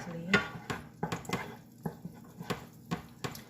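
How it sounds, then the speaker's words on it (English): A wooden spoon scrapes and knocks against a pot while tomato paste fries for a spicy chilli dipping sauce, with a series of close, irregular taps and scrapes and faint talk beneath. "I'm going to be using a wooden spoon to fry this completely."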